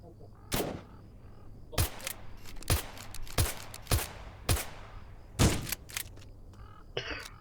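Gunfire in the zombie survival game Apocalypse Rising 2 on an island, a series of about eight sharp, loud single shots at irregular intervals of roughly a second, with a low steady hum underneath.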